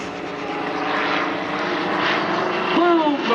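Red Thunder propeller planes fly in close formation at the Courtland air show, a loud droning roar with swelling and fading engine tones as they pass, and a voice speaks briefly near the end.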